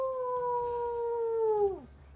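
A human voice imitates a wolfman howling into the night: one long, sustained tonal howl that holds steady, then bends downward and cuts off near the end, loud and close.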